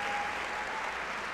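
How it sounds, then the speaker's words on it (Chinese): A church congregation applauds warmly during a Sunday service, a steady dense wash of clapping filling the whole short moment. "我们给他热烈鼓掌"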